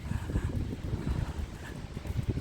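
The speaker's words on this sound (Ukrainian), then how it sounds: "але вітер, воно ж буде шуміти" Heavy wind buffeting the microphone in low, irregular rumbling gusts in a seaside park in Odesa, loud and continuous, with no voices.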